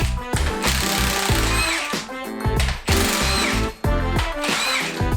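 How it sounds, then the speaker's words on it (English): A pneumatic impact gun runs out rocker shaft bolts on a Mack MP7 diesel engine during an overhaul, loud close bursts of rattling hammering with short gaps between runs. "I'll switch over to my impact gun and I'll run out the remaining threads."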